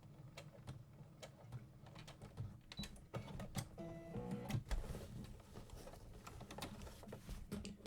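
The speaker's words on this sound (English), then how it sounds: "I'm just going to back stitch." A sewing machine backstitches a tote bag in quiet, rapid mechanical clatter. Uneven bursts of needle ticking pick up pace briefly in the middle before settling back to a steady chatter.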